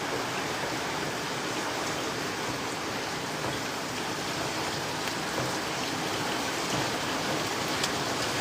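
Heavy rain pours down steadily in Singapore, a dense, even hiss of downpour that stays loud and constant throughout with no voices.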